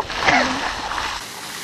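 A bucket of ice water splashes over a person outdoors, a single close rushing splash that drains away, with a voice calling out over it.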